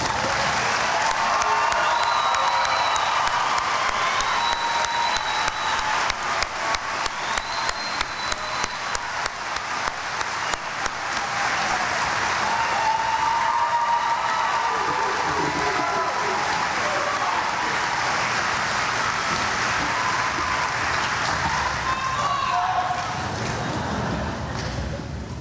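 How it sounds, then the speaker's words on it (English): A commencement audience at a Class of 2021 graduation breaks into sustained applause and scattered cheering that swells and holds for the whole stretch, with some crowd voices mixed in. "We applaud these students for their unselfish and brave acts"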